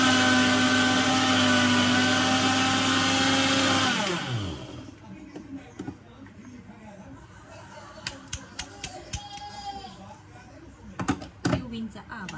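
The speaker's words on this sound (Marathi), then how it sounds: "ओट्स ग्राइंड करते." A kitchen blender grinds oats with a loud, steady whir for about four seconds, then spins down and stops, leaving quieter room sounds with clatter and a voice in the background.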